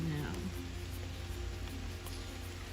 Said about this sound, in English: I'm thankful for the rain that is coming now